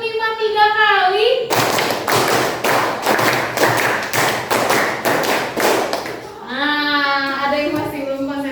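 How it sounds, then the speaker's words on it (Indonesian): A class of ninth-grade students claps in unison during a concentration clapping exercise, sounding a rapid run of sharp, loud claps for several seconds. The teacher's voice is heard before and after the clapping. "tepuk 5 3 kali."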